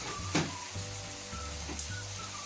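Milk kavurma cooks in a pan with a soft, continuous sizzle, joined by a couple of brief clinks or stirring noises close by.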